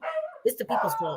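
A pet dog barks and yips in short bursts mid-clip, close by and fairly loud, mixed in with someone talking over it.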